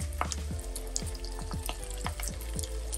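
Onions sizzle steadily in a hot pan while a utensil scrapes and stirs in regular strokes, close up and without talk.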